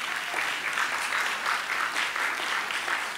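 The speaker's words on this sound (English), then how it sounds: "He deserves a round of applause just for 40 years doing anything." A round of applause from an audience at a speech honouring a longtime Charleston mayor, sustained and fairly even clapping from many hands, moderately loud and unbroken throughout.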